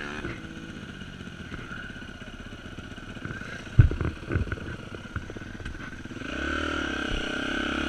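A carbureted motorcycle idles with a steady low rumble, then clatters and throttles up for a wheelie, the engine note climbing and holding louder toward the end.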